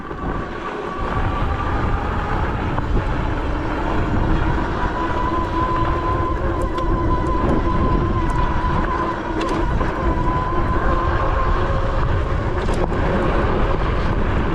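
A 420 horsepower dirtbike-engined drift trike accelerates toward top speed on a road, its engine droning loud and steady with a slowly rising whine and rushing wind noise, with no talking.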